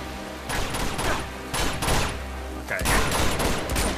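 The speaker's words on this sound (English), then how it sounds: "Why are they only shooting me, man?" Rapid bursts of gunfire in the video game Uncharted 2: Among Thieves, loud clattering volleys in quick clusters with brief gaps, and a voice speaks briefly over them.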